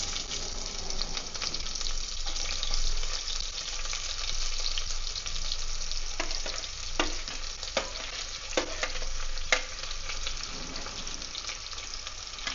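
Chopped big onions fry in a pan for mutton gravy, a continuous close sizzle with occasional sharp spatula scrapes and clicks against the pan, no voices.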